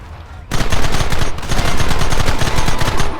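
Rapid gunfire erupts in the Red Dead Redemption video game, a loud, dense volley of shots rattling continuously after a brief quieter lead-in.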